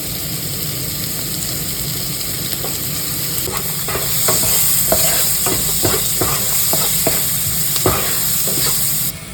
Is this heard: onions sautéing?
yes